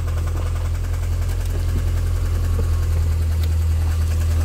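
A Mini R50 engine idles cold with a loose timing chain, giving a loud, steady low drone with a fine rattling texture running continuously underneath.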